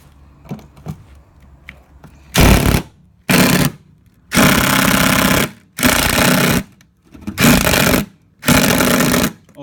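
Impact driver hammering at a stuck screw in a bus floor during a bus home build, firing in about six loud, harsh bursts of a second or so each, separated by short pauses, close up.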